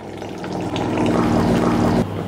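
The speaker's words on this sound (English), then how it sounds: "Turn off your faucet and turn on your RO faucet." Water runs steadily from a reverse osmosis faucet on an ICEPURE UTR400 tankless filtration system, a close, even gushing flow that cuts back near the end.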